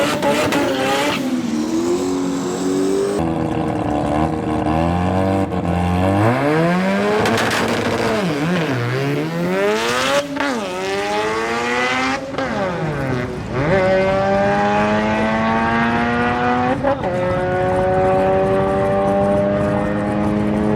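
A race car with a button-wired 2-step anti-lag launch control during FL2K qualifying: loud, close engine revving with repeated deep pitch dips and sharp climbs, crackling bursts and sustained high-rev screams across the launch.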